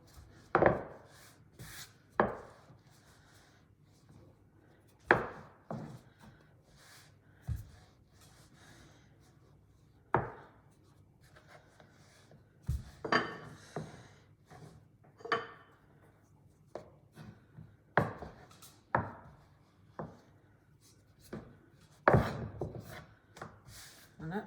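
Tortilla dough balls rolled out on a kitchen work surface, giving a series of irregular thumps and rolling knocks spaced a second or two apart, close and moderately loud, with no talking.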